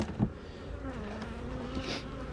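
Continuous humming drone of numerous honeybees around a hive, moderately close, with individual insects whining past over the steady buzz.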